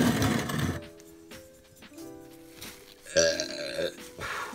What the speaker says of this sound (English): Man, I'm burping like crazy today.